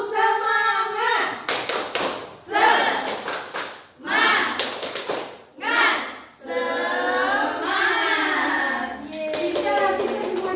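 A group performs a rhythmic spirit clap in short bursts of quick, loud taps and claps, broken by brief pauses. Voices chant along between and over the clapping.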